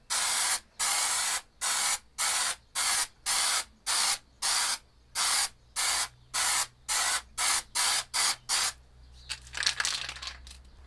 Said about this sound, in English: So now I'm going to try this Granit effect spray paint.